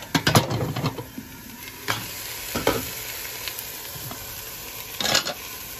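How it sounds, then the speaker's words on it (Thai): Chili paste and pork bones are stir-fried in a pan for Thai khanom jeen nam ngiao, a steady close sizzle broken by several sharp scraping strokes of a spatula against the pan. "เอาน้ำพริกไปคั่วให้หอมแล้วก็เอากระดูกหมูลงไปคั่วเนาะให้มันหอมๆ"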